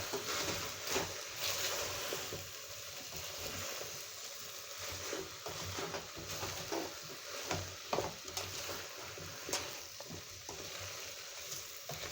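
Beef goes into a pot for a beef stew with carrots and potatoes and is stirred, making a continuous moderate sizzle broken by irregular scraping and stirring knocks, with no talking.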